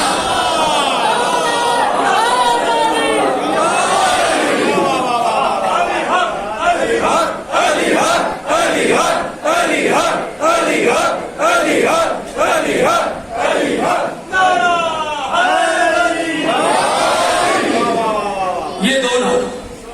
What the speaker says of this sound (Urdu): یہ 2 نعرے جو ہے نا, علی حق والا نعرہ اور کل ایمان نعرہ حیدری